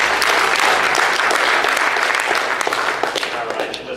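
An audience claps as a staff director is introduced at a talk, a full, steady round of applause that stays loud and gradually eases toward the end.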